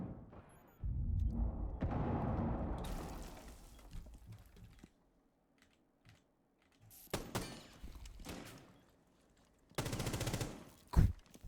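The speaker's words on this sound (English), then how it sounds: "Sharp gonna take some shots," Video game match gunfire comes in several separate bursts of sharp shots between quiet stretches, some loud and close, with faint clicking mechanisms in between.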